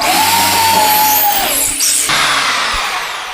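A power drill fitted with a concrete bit bores into a cement brick, giving a loud continuous whine that shifts in pitch as the bit bites, then changes tone partway through before tailing off.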